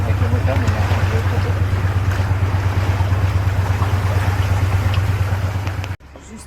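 Steady low motor drone of a boat towing another boat on the Rio Dulce in Guatemala, loud and continuous with wind and water noise, cutting off sharply near the end.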